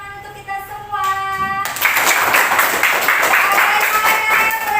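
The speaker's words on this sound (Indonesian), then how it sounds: "Oke, berikan tepuk tangan untuk kita semua." Students in a classroom break into applause during a lesson, a sudden burst of clapping that stays loud and steady, following a few sustained tonal notes at the start.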